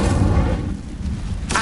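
Burst of the Incendio fire spell in Hogwarts Legacy, a broad whooshing, rumbling blast that swells and trails off, ending with a brighter crackle.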